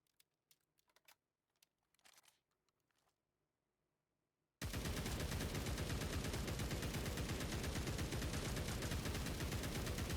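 RPD machine gun firing in a video game: sparse faint clicks, then a sudden loud, sustained rapid burst of automatic fire running without a break to the end.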